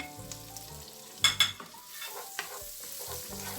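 Small cubes of ham frying in a wok, a soft steady sizzle with a couple of sharp utensil scrapes and taps as the pieces are tossed.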